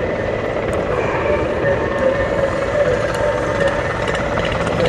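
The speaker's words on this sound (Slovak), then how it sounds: "Ale ešte tu máme vrtuľník Mi-24." A Mi-24 military helicopter drones steadily overhead at an air show, its rotor and engine roar loud and continuous with a faint thumping texture throughout.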